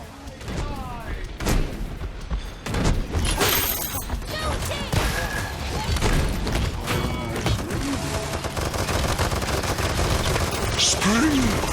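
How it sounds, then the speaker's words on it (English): Gunfire in the fantasy shooter Paladins: Champions of the Realm, with rapid, overlapping shots, bursts and impacts in a chaotic fight, while a player talks excitedly over the action. "Oh, the shots!"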